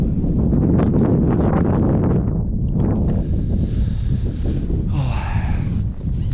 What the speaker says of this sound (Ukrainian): вітер вже так так чую в спину вже дує